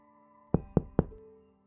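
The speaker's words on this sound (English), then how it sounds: "That afternoon, Tyler's friend who lived next door stopped by and knocked on the front door." Three quick knocks rap on a front door, evenly spaced and sharp, followed by a fading ring and then quiet; no voices.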